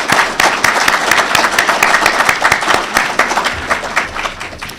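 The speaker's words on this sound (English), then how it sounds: "we'd also like to thank another round of applause for the WHCA Quartet" An award-ceremony audience gives steady, dense applause for a vocal quartet, a close and loud round of clapping that carries on without a break.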